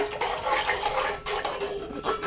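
Water poured into a pan of frying fish curry with onion and green chilli paste, a steady splashing pour running the whole short stretch at moderate loudness, with no voices.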